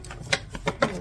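A deck of cards being shuffled, several quick riffling bursts in rapid succession, close and crisp.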